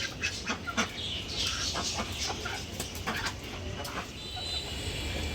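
Chickens and ducks on a rooftop in the rain cluck and call intermittently over a constant wash of rain noise.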